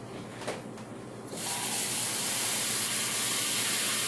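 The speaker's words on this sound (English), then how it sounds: "Now I'm going to light the stove." A camping stove under a canteen cup lights with a soft click, then settles into a loud, steady roaring hiss of burning fuel that carries through to the end.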